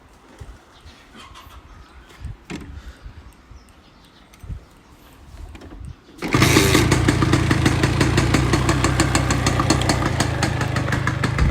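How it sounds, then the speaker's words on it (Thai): Faint rustling and clicks, then a Honda LS125 motorcycle engine fires up and settles into a steady, loud, rapid idle rumble close by. "อ่ะเดี๋ยวผมสตาร์ทให้ฟังเสียงเครื่องนะครับผม"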